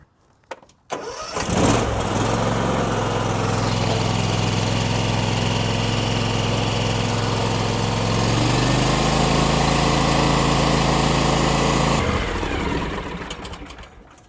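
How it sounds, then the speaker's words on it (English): A Kawasaki lawn tractor engine cranks and catches, then runs at a steady, loud idle for about ten seconds before shutting off. "we'll run the engine for a minute or two, and we'll check the oil."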